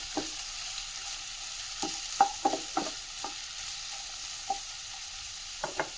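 Sliced onions sizzle gently in a pan, with a faint steady hiss broken by a few scattered scraping clicks from stirring, heard alone and fairly quiet.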